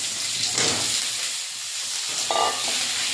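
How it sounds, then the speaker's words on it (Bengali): Cut potatoes frying in a pan with onions and spices for a bitter gourd, eggplant and potato curry, continuous sizzling hiss with stirring scrapes and clinks, close and alone. "হালকা ভাজা ভাজা করে আলুটা দিয়ে দেবো,"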